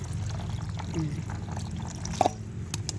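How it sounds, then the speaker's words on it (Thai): Well water pours and splashes while plants are washed, a steady running stream with a few drips and clinks, under a low background hum. "น้ำบ่อนี่แหละล้าง ล้างให้ ให้เมือกเมือกเขาหมดไปเนาะ"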